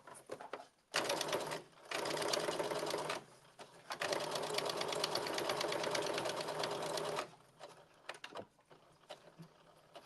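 A sewing machine stitches a blazer seam at a 5/8-inch seam allowance, running in two bursts: a short one, a pause, then a longer steady run of close rapid needle chatter before stopping, with faint handling noises after.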